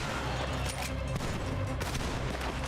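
Rifle shots in the Western game Red Dead Redemption 2, a dense, booming barrage of reports layered over a constant loud backdrop of rumbling game sound, with several sharper cracks standing out.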